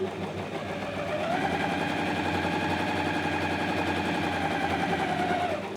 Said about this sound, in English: you place the fabric like this, and then you just start sewing